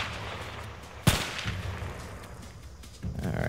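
Gunfire in the video game A Way Out: a single sharp, loud shot cracks out over a steady rumbling game backdrop, followed by a duller thump near the end.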